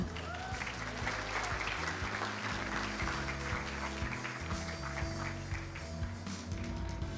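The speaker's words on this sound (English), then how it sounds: "Let's give a round of applause for Mr. Charles William Ang." An audience applauds at a trading summit panel discussion, with sustained, fairly quiet clapping over a steady low hum from the venue's sound system, no clear talking on top.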